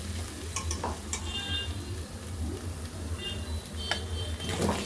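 Baby potatoes frying with ginger and garlic in a pan for potato kurma, a fairly quiet steady sizzle with occasional stirring clinks and a low hum beneath, a faint voice at times.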